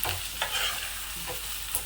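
Onions and curry leaves sizzle and fry in a pan, with a faint steady hiss behind a few quiet stirring scrapes and light clinks, and no voices.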